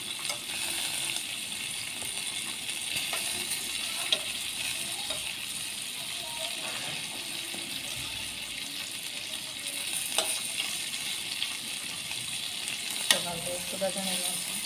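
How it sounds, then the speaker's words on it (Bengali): Hilsa fish pieces fry in a pan of hot oil with a continuous soft sizzle over nearly fifteen seconds, broken by occasional faint clinks and scrapes as the fish is turned over. "ইলিশ মাছগুলো একটু উল্টো পাল্টে দিচ্ছি।"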